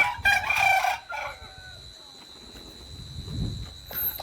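A young cross-breed rooster crows loudly and close at the start, then hens cluck softly and sporadically in a garden coop.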